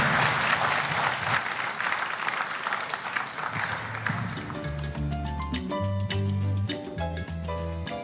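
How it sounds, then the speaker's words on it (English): A round of applause at Ghana's national AI strategy launch greets a speaker, steady hall-wide clapping that fades partway as music with a deep bass line comes in beneath it. "Please welcome him with a round of applause."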